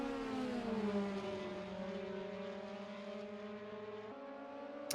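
Several Porsche Cup race cars roar through a racing video game, a steady engine howl whose pitch sweeps down and then climbs again as they brake and accelerate, with no voices.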